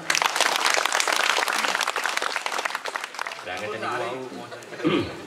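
An audience at an Islamic sermon gathering in Mojokerto claps in a dense, loud burst for about three seconds, then the applause thins as voices and other sounds take over.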